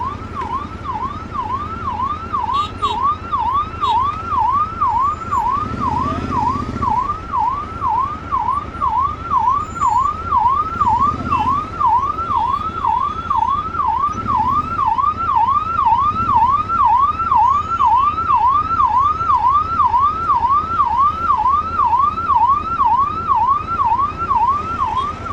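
An ambulance siren wails continuously in city traffic in Bangalore, a fast rising-and-falling yelp cycling steadily and close by over the rumble of surrounding engines.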